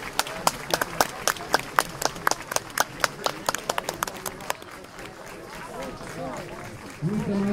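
Clapping from an audience at a commemorative anniversary gathering, sharp distinct claps for about four seconds that thin out and fade, then a voice begins speaking near the end.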